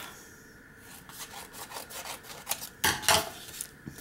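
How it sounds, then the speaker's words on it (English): Plastic embossing folders are handled and lined up on a crafting table, giving soft rubbing and sliding scrapes followed by a few sharper clacks and rattles near the end, close and fairly quiet with no talk. "I'm just grabbing different embossing folders and lining them up"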